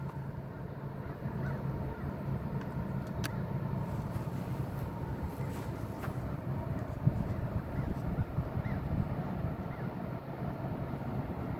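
A Kenworth W900 truck's engine gives a steady, deep rumble from a distance, droning evenly throughout with a few faint higher sounds above it.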